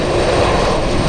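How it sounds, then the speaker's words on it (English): A Boeing 747 Dreamlifter taxis slowly at Anchorage airport, its engines a loud, steady, broadband roar that holds constant throughout with no voices. "Making progress, taking its time, taxiing it nice and slow."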